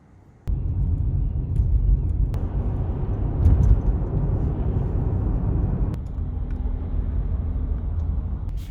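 Steady low road rumble of a car driving in cold Canadian winter, continuous and fairly loud throughout after a brief quiet start, with a few faint clicks and no clear talk.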